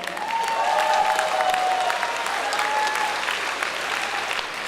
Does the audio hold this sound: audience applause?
yes